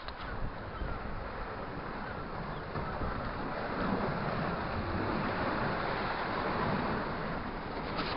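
Sea waves on the Scottish coast make a continuous, moderately faint wash of surf, mixed with some wind rumble and no talking.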